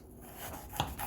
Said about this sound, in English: now we're gonna chop it off.